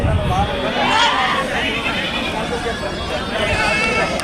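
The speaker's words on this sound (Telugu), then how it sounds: "ఇంకో సైజ్ అన్న మేకపోతులు ఇవి చూడొచ్చు." Goats at the weekly Kunta goat and sheep market, with bleats rising over a dense, loud crowd of people chattering and milling around nearby.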